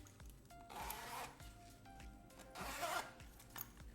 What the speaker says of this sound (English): This is a pullable one attached to the YKK heavy duty zippers.